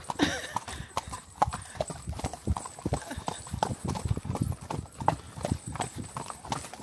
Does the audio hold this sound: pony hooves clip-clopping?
yes